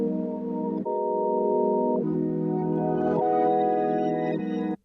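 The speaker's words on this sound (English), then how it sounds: "Then I rendered those two patterns to audio and I reversed them and they sound like this." Reversed rendered R&B chord patterns: four swelling synth chords, each rising in volume and cutting off abruptly in a backwards attack, smooth and sustained, close and alone.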